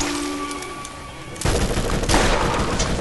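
Rapid SMG fire in the video game Borderlands starts abruptly partway through, loud and dense, bursting in sustained rattling volleys after a quieter stretch of game ambience.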